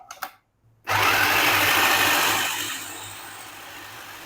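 An electric chopper whirs loudly as it chops a chicken kebab mixture with coriander powder and turmeric, starting abruptly after a brief knock and running as a steady, close motor drone that eases slightly toward the end.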